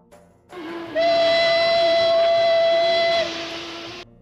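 An 1895 model steam locomotive that hauls coal daily to the port of Padang sounds its steam whistle in one long, loud, sustained blast lasting several seconds, with a hissy edge and no voices.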